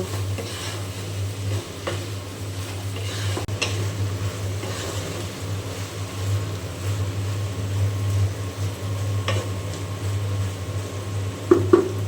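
Pointed gourd frying in a pan with steady sizzling and occasional scrapes and clinks of a spatula stirring, a low constant hum underneath.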